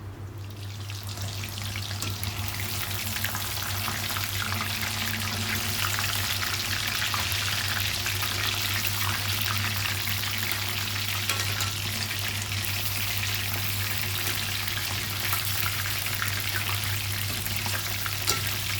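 Pandugappa fish pieces frying in a pan, a loud, steady crackling sizzle that holds evenly throughout with a constant low hum beneath and no talk.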